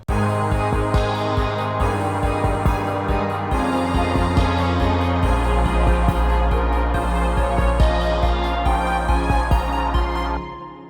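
Full pop arrangement built from Logic stock instruments recreating the closing bridge of a song: steady drum hits and deep bass under layered synth chords, loud and continuous for about ten seconds before cutting off.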